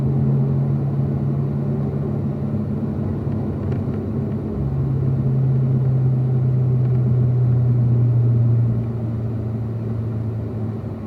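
A Corvette circles a race track in 4th gear on a relaxed cool-down lap, its steady engine drone rumbling close and loud, rising slightly mid-way and easing off again.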